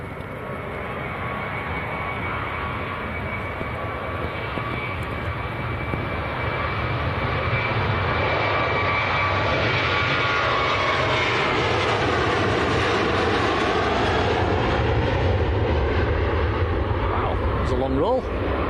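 A Jet2 airliner accelerating down the runway for takeoff at Manchester Airport, heard from a distance as a steady, swelling jet roar with a whining tone, under occasional talk from a nearby spotter.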